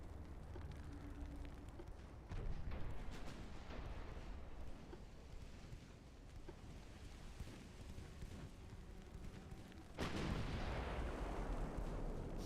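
Heavy 12.4-inch naval guns fire in a Ultimate Admiral: Dreadnoughts sea battle, giving deep booming blasts over a constant rumbling wash of battle noise, with a fresh loud salvo near the end.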